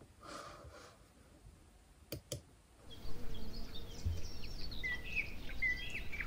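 Birds chirp and sing at a countryside dacha on a foggy summer day, scattered short calls over soft background noise, with a few clicks early on.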